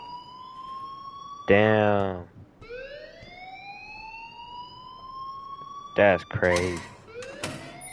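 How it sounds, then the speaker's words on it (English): A loud electronic alarm blaring in the game Life Is Strange, rising wailing tones that stop and start again, with someone speaking briefly over it. "please turn off that alarm"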